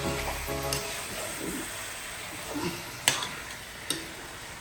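Chicken curry being stirred in a pan with sesame oil, a soft scraping and low sizzle running steadily with a few sharp clinks of the utensil against the pan.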